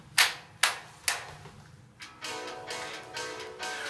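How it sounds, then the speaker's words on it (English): Three sharp, distinct hand claps spaced evenly about half a second apart, followed by a quieter, more diffuse burst of scattered clapping and noise. "clap your hands 3 times"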